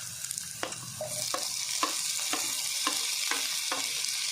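Tomatoes frying in a pan for Tulu-style squid sukka, a steady close sizzle with about seven sharp scraping stirs of a spoon against the pan at an even pace, no voices.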